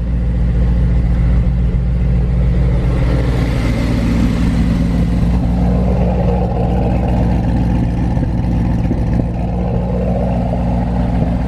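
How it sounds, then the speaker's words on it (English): An engine fitted with Lingenfelter 1500+ horsepower fuel injectors idles steadily right after a fully cold start, a loud, continuous low rumble that holds even throughout, with no voices. "That was a pure cold start."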